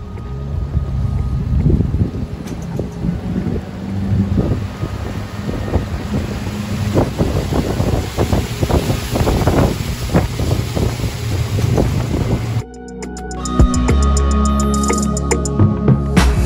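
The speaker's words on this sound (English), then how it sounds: "now we're here and we're gonna take this boat ride" A boat moves across the water of the Okavango Delta in Botswana, with loud wind buffeting the microphone, splashing and rushing water, and a steady low rumble throughout, close and constant, with no speech.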